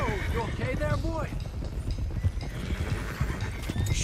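Horses in Red Dead Redemption 2 gallop with rapid clip-clop hoofbeats and sharp whinnies near the start, joined by other busy game sounds and a voice.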